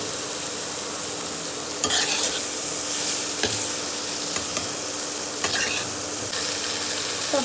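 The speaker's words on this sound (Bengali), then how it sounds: "এরপর আমরা কুচি করে রাখা টমেটোগুলো সব এর মধ্যে ঢেলে দেবো" Chopped tomatoes fry with vegetables and spices in a pan, giving a steady sizzle with a few sharp scraping stirs scattered through.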